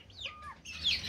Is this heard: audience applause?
no